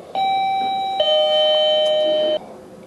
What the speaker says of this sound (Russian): После этого вы будете оповещены звонком о прибытии гостей.